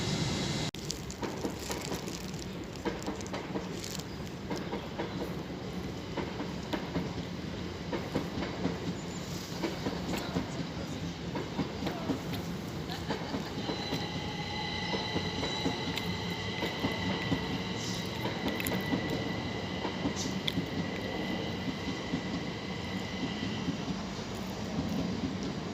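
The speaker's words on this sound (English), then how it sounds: "It's got Azuma on the train." An Azuma Class 801 train passing at King's Cross station, a long continuous rumble with wheel clatter and, later, a faint squeal as the carriages roll by close at hand.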